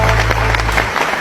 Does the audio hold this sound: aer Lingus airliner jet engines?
no